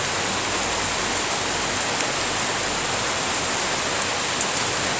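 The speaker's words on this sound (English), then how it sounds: "I don't know if you can see that rain or not, but it's coming down" Heavy rain pours down outdoors in a steady, dense wash of hiss that holds at one constant loudness, with no voices over it.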